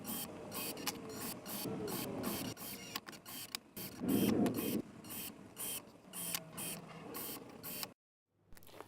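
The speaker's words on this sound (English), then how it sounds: "prepare for the quickest screwing of angle irons that you have ever seen" Angle irons being screwed together at speed, a busy stream of close mechanical whirring and ratcheting bursts that stops abruptly into near silence at the end.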